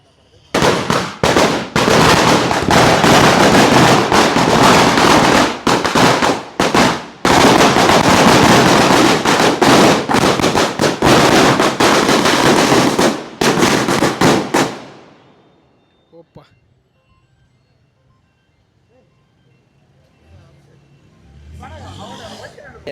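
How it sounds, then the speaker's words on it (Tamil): Dense, loud crackling of firecrackers set off in a street celebration in Jaffna, a continuous rapid barrage of bangs for about fifteen seconds that then stops abruptly, leaving quiet with faint background sounds. "இவ்வளவு வெடிகளும் வந்து இந்த இடத்துல கொளுத்தப்பட்டு இப்போ கொண்டாடி கொண்டு இருக்கிறோம்"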